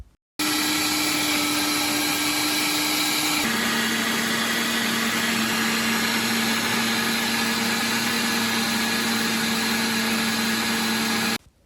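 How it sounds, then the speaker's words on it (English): Kitchen blender whirring steadily as it blends a herb and garden greens sauce, a loud continuous motor drone that shifts lower in pitch partway through, then stops. "Now let's blend the other one."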